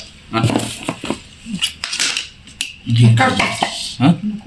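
A new kitchen chopper gadget cutting vegetables and onions, producing clattering plastic and blade knocks in uneven bursts, close by, with people talking in Marathi over the noise.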